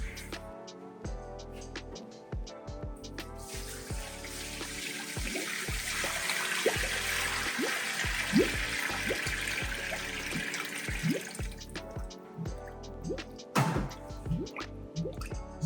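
Sanitizer solution bubbles and trickles as it fills a CS700 machine, a continuous close watery rush with scattered drips and gurgles that swells in the middle and then eases, with no voices.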